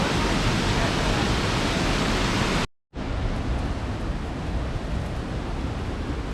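A waterfall roars in the Watkins Glen gorge on a rainy day, loud continuous rushing water filling the air, broken by a sudden brief silence before resuming just as strong.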